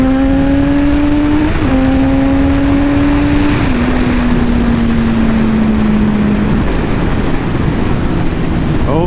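A car engine pulls hard through several upshifts, its loud, steady drone stepping up in pitch between gear changes as it accelerates to overtake a Jeep on a two-lane road with oncoming traffic.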